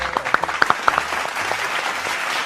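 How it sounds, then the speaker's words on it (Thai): A small studio audience on a Thai TV quiz show claps in a short burst of scattered hand claps. The applause fades out within a couple of seconds. "ขอเสียงประมือให้กับหนูเดียวแล้วก็ไบรท์ด้วยนะครับ"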